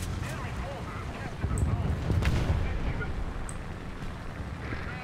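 Anti-aircraft guns firing in the combat video game War Thunder, a dense rumbling barrage of booms with a swell of heavier blasts midway, continuous through the clip.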